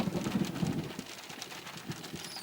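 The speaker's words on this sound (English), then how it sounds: "You heard that thunder?" Thunder rumbles low and heavy during steady rain, the rolling boom strongest at first and then easing under a constant wash of falling drops.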